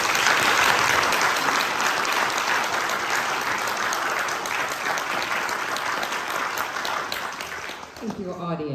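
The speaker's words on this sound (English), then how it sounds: "Let's give them a robust round of applause" A steady round of audience applause at a county commissioners candidate forum, dense and fairly loud clapping that tapers off near the end as a voice begins speaking.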